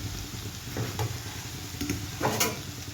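Small fish slid into a pan of lightly browned onions for a simple fish curry, frying with a steady close sizzle broken by a few stirring clatters and knocks of a spatula.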